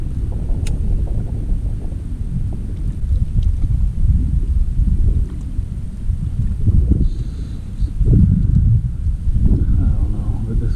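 Wind gusting over Canyon Lake along the Guadalupe River in Texas while fishing, a loud, steady low rumble of buffeting across the microphone throughout.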